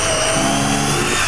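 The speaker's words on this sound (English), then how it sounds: "takes his drill, pre-drills a hole" A power drill pre-drills a hole in a wooden kitchen base cabinet, its motor whining steadily and close for a brief moment over a constant workshop hum.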